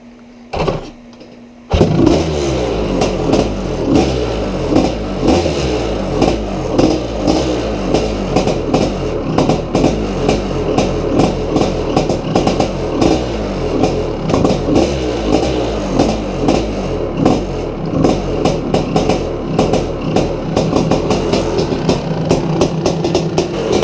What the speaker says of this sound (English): very, very thankful that the flat track bike runs